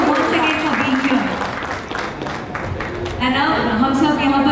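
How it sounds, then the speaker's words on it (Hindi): Audience applause at a corporate realty event: broad clapping from the crowd, with a voice talking over parts of it and a tonal sound emerging near the end. "तो एक बार आप सबके लिए जोरदार तालियां होनी चाहिए दोस्तों।"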